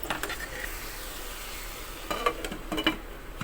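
Chicken samosa filling is sautéed and stirred in a pan. A soft sizzle runs underneath while a spatula scrapes and clinks against the metal in bursts, louder near the end, with no speech.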